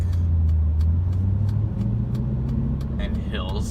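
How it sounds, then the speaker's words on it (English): Steady low rumble of highway traffic inside a manual Dodge SRT Challenger, the engine droning and shifting pitch slightly, with a faint voice near the end. "Highway traffic in a manual is one of the worst things ever."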